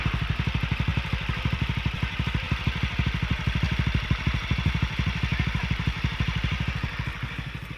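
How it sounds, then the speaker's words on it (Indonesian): Honda Beat scooter with a modified exhaust idling with the mic held close: a steady, even, rapid putter of low exhaust pulses, loud and unbroken throughout. "jadi suara knalpotnya ini kalau pas idle dia anteng ya"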